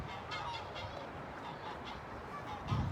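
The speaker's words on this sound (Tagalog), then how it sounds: "Ito, yung mga gansa sa likod ko." Geese honk repeatedly at a moderate distance outdoors near the sea, a series of nasal calls spread across the clip with a louder burst near the end, no talking.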